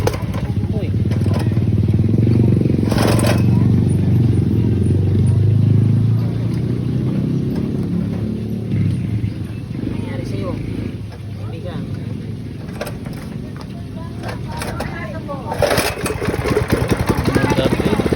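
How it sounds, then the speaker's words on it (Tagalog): A motor engine cranks and catches, then settles into a steady low rumble; people talk in the foreground over the running engine. "buti na lang umandar din ang makina ni kuya"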